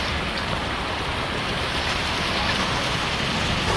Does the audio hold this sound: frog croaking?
no